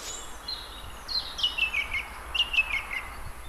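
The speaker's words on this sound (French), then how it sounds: "la grive musicienne, elle se met au sommet des arbres, souvent tout en haut." A song thrush sings from high in a treetop, its bright repeated phrases sounding thin and somewhat distant over a quiet outdoor background.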